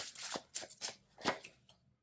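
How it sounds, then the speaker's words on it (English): A deck of tarot cards being shuffled by hand at close range, with several quick riffling swishes separated by short gaps, quiet and without talk. "I'm just going to shuffle for the divine feminine too"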